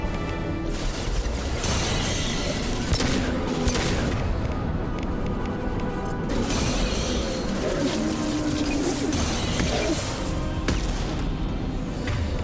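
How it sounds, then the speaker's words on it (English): Rocket launcher firing in Mass Effect 2 during heavy combat, repeated booming blasts and crashing impacts over a constant loud roar of battle, with faint voices beneath. "Time for our rocket launcher."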